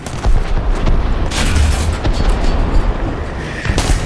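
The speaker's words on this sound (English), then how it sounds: "So now he's shooting at me with his cannon." Enemy aircraft cannon fire in the War Thunder combat flight game: repeated loud booming bursts and rapid gunfire crackle in close succession, dense and continuous.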